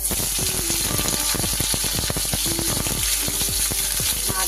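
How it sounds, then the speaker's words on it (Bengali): Dried lote fish (shutki) frying in mustard oil, a loud continuous crackling sizzle dense with sharp pops and spatters, steady throughout at close range. "এবার আমি এই তেলে দিয়ে দিচ্ছি মাছগুলো"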